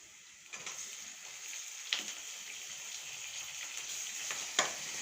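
Tomatoes sizzling in a pan with browned onion and chillies give a steady close frying hiss, with a few sharp crackles and pops and no voices.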